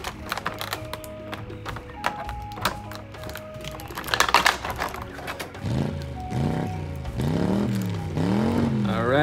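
A voice imitates a bright red toy motorcycle zooming away, a rising and falling vroom that swells and holds loud toward the end, after some clicking and handling noises of plastic dinosaur figures.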